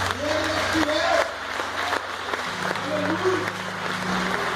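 A church congregation applauds during a worship service, a moderate, steady clapping spread through the room, with voices and sustained tones running beneath it.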